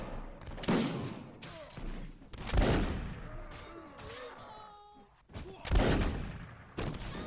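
Volleys of musket fire from a firing line in the video game Mount and Blade, with several heavy booming bursts at intervals, each trailing into crackling shots and echo, loud and fairly close.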